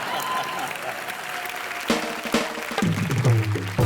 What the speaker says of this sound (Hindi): बिना पंच के ताली बजा देते लोग